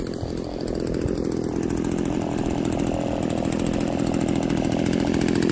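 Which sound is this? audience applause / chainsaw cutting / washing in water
chainsaw cutting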